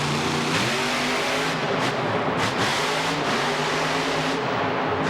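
Grave Digger, a monster truck, revs hard during a Monster Jam power wheelie, its loud engine climbing and dipping in pitch across several surges amid arena noise.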